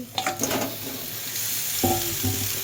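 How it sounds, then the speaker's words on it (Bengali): Fish pieces being fried in a spice masala in a pan, a continuous close sizzle with scraping stirs from a utensil, a couple of louder stirring strokes standing out over the hiss. "মাছ দিয়ে ভালো করে কষাই নেবো।"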